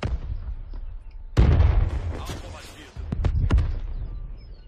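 A grenade blast in the first-person shooter Black Ops 3, a sharp loud boom with rumbling aftermath, followed by more scattered bursts and pops of gunfire amid ongoing game noise.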